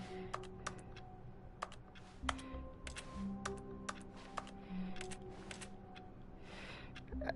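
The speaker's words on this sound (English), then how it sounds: "Just keep pressing the keyboard" Rapid, uneven keyboard key presses clatter throughout, sharp clicks in bursts over a low hum from The Stanley Parable, no voices.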